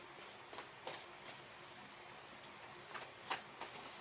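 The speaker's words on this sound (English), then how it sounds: "I'll give it another little shuffle" A new tarot deck is shuffled quietly up close, giving soft papery riffles and a few sharper card snaps over a faint, still background.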